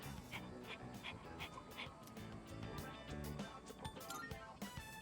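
Koromaru, a dog in the Persona 3 Reload video game, gives soft sad whimpers and faint yips at low level, set against a quiet musical game background.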